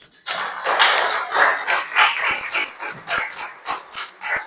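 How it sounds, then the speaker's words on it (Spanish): A church congregation claps at a service, uneven hand claps that swell and fade in bursts rather than one steady roar. "Le damos un aplauso al Señor"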